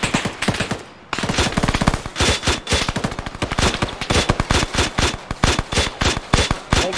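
Rapid automatic gunfire from an armored vehicle in the ARMA 3 video game, dense repeated bursts with a short pause near the start, loud and close with no talking.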